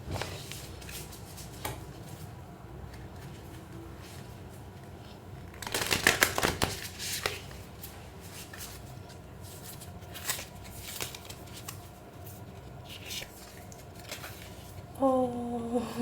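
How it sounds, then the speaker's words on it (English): An oracle deck of sticky cards is shuffled by hand, giving a soft papery riffle with a louder burst of shuffling midway and light handling rustles before and after. "let me just shuffle it"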